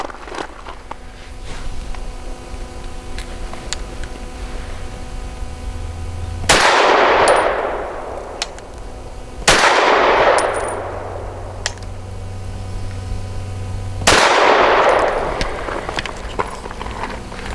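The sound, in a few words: gunshots from Walther PDP pistol, 115 grain Hornady ammo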